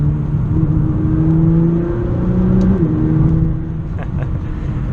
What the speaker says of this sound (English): And then just flicking some downshifts.